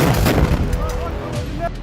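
Gunfire rattles during an attack on Israeli tanks in Gaza, a dense continuous barrage of shots and booms mixed with rumbling and noise, loud and close throughout.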